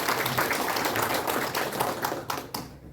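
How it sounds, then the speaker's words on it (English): Energetic audience applause at a political party gathering in Kohima for the women's front national president, a dense, loud, continuous clatter of many hands that eases slightly near the end. "Let's give her a round of applause."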